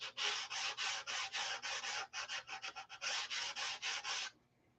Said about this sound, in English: it'll get detail sanded again